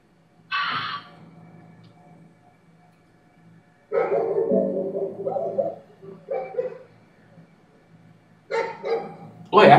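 Dogs in the video game Cahara bark in a few separate bursts of sharp yips and barks, loud and close, with quiet gaps between them.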